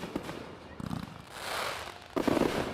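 Fireworks bursts at a show, several distant booms and crackles in irregular succession, the loudest burst near the end, with no talk.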